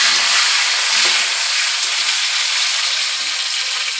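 Cashews and raisins frying in hot oil in a pan for pulao, a loud continuous bright sizzle with faint stirring movement beneath; no speech.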